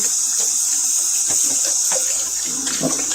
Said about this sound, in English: I just kind of rinse it off, dry it off.